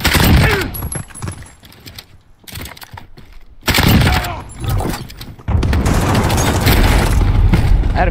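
Loud gunfire erupts in Call of Duty Warzone: bursts of close shots and booming impacts come in uneven clusters, broken by short quieter gaps, then a sustained heavy volley.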